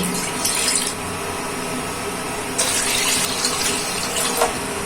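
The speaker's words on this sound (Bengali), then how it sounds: "এখন অ্যাড করব দুই কাপ পরিমাণ পানি" Two cups of water pour in a steady stream into a kadai on the stove, with a couple of brief louder gushes and splashes near the end.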